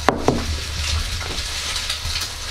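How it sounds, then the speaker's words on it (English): Food sizzles in a non-stick frying pan over an outdoor cook-up on an ice fishing trip, a steady hiss broken at the start by two sharp clacks of a plastic flipper against the pan. "It's a good frying pan, huh?"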